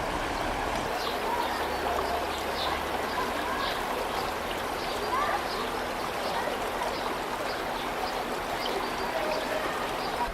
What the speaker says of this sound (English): This water just comes out of this spot, just comes right out of the mountain.